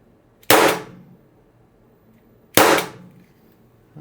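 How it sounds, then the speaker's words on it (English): A Byrna LE launcher dry firing, two sharp loud gas cracks about two seconds apart, each with a short hiss trailing off, otherwise quiet. "let me dry fire a few shots."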